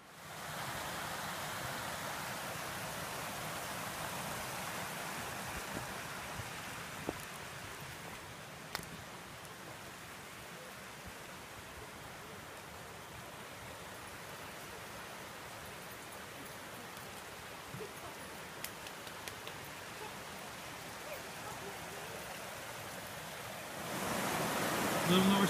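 The Little North Santiam river flowing in spring, a steady broadband rush of water heard from the bank, constant and moderately loud, swelling slightly louder near the end.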